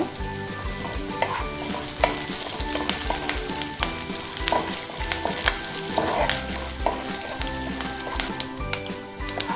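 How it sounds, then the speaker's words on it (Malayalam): Dried red chillies and curry leaves crackle in hot oil, a loud, dense sizzle with sharp popping spatters and bits of stirring throughout, close up and with no voices. "രണ്ട് വറ്റൽമുളക് കറിവേപ്പില"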